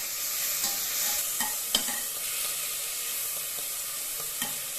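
Green chili and curry leaves are sautéed in a pan for a mutton bone soup, with a steady close sizzle of frying and occasional scraping stirs, and no one talking.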